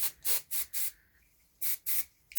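An aerosol can hisses in five short bursts during a fire alarm system test, with a pause between the third and fourth, close and fairly loud.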